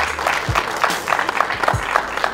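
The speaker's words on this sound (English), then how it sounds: "Give him a round of applause." An audience applauds a speaker being introduced at a youth football gathering, a busy steady clapping with several distinct claps near the microphone and some crowd murmur.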